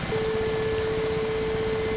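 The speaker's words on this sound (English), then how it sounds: "That sound is the radar altimeter" A steady, unbroken radar altimeter tone sounds inside the cockpit of a simulated Mi-8 helicopter in the DCS World flight game, holding one pitch for the whole stretch over a low, continuous rumble of rotor and engine noise.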